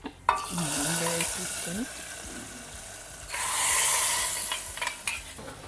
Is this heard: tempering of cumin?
yes